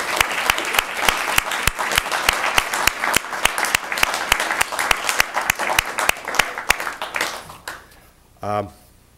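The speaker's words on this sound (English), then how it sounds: "Would you give them a round of applause for helping out?" Audience at a high school poetry recitation contest applauds the judges: loud, crisp hand claps in a dense rhythmic burst that thins and fades out near the end, followed by a brief voice.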